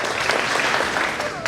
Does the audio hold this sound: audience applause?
yes